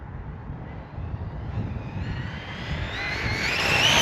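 An Arrma Talion EXB RC car makes a full-throttle speed run outdoors, its electric motor whine climbing steadily in pitch and loudness as it accelerates, with rushing wind noise and no voices.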